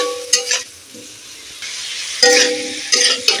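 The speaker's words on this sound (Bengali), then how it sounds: "মশলা দিয়ে দিয়েছি, একটু নাড়াচাড়া করে নেব, মশলা অল্প ভেজে নেব মশলাটা।" Spices frying in oil in a home kitchen while being stirred for a koi fish curry, a steady close sizzle with scraping stirs and a few louder bursts, no talk.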